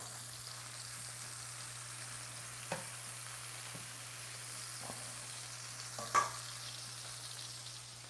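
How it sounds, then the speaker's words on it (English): Lamb chops sear in a hot pan with a low, steady sizzle and frying crackle. A few sharp clinks and taps of utensils stand out, the loudest near the end. No one talks. "let me turn this up a little bit because I need a sear"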